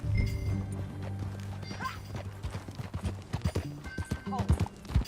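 A horse gallops in Red Dead Redemption 2, its rapid, rhythmic hoofbeats close and clear, growing denser toward the end, while characters talk over the ride.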